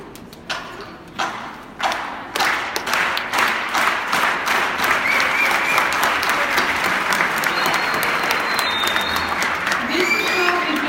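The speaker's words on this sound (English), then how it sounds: "This is called the Unity Clap, and unity is what Cesar Chavez wanted." An assembly audience performs a Unity Clap honoring Cesar Chavez, starting with a few slow, separate claps that quicken into loud, steady, rhythmic group clapping.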